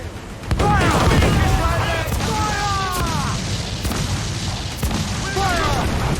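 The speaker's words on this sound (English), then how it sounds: "Ready to fire, Captain! Fire!" Pirate ship cannons fire in a naval battle in Assassin's Creed IV Black Flag, heavy booms landing in an irregular volley of separate blasts, loud and near, amid shouting crew voices and rushing sea and wind.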